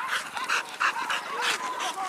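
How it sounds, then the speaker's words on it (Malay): Several hunting dogs yip and bark excitedly in rapid, overlapping bursts during a wild boar hunt, fairly close and continuous. "Anjing ada dua."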